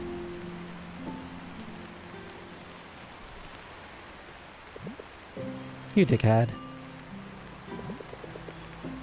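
Rain falls steadily in the video game Until Then, a soft constant patter beneath music tones and a short burst of louder chatter partway through, with a person speaking briefly.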